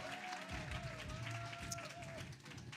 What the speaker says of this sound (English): Clap it up right there for Bright Star Community Outreach